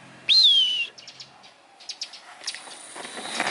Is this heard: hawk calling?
yes